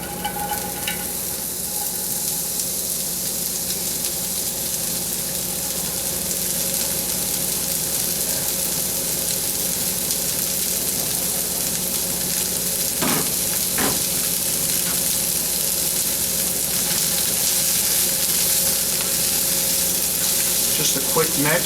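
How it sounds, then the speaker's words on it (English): A medium onion sautés in a hot pan for risotto, a steady, close, loud sizzle and hiss that runs throughout with a few brief clinks from stirring. "we're going to go in with our about a medium onion right now. And we want to saute these"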